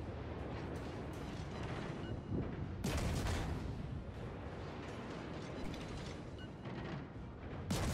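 Heavy naval gunfire in World of Warships as a Z-46 destroyer shells a Gneisenau battleship: loud, continuous booming salvos and rumbling impacts, with a sharp burst of blasts near three seconds and another at the end.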